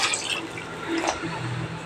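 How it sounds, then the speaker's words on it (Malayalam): Water being poured into a pot of sambar being cooked with curry leaves and salt, a steady splashing pour running continuously at close range, alone without talk. "അപ്പോൾ വെള്ളം ഒഴിക്കാമോ"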